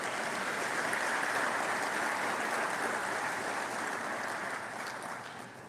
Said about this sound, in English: you could clap for that